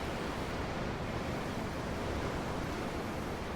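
Steady ocean surf at a pier in Tales of Arise, a continuous even wash of water with no distinct breaks and no voices.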